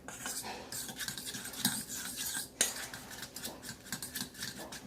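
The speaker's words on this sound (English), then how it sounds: "Stir it up real nice." A spoon stirs a seasoned mixture with pink Himalayan salt and black pepper in a bowl, giving quiet, rapid scraping and clicking strokes with a couple of sharper knocks.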